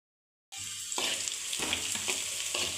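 Bitter gourd (kakarakaya) slices fry in hot oil after a moment of silence, giving a steady close sizzle with occasional crackles and stirring scrapes.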